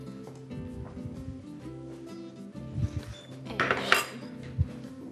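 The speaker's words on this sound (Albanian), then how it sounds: "duke e trazuar e hedhim miellin tek qumshti" A spoon stirs in a bowl while flour goes into milk for a coconut cream roll dessert. It makes close clinks and scrapes against the bowl, with a few sharper knocks near the end, and there is no speech.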